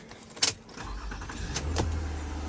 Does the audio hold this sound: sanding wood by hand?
no